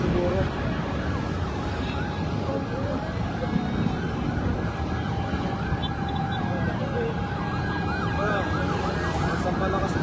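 An ambulance siren wails repeatedly at a fire scene on Luzon Avenue at Commonwealth in Quezon City, loud and cycling over traffic noise and crowd voices throughout.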